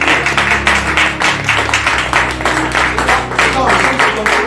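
A congregation at a worship service claps along, a dense, continuous wash of hand claps under a voice and music, loud and close.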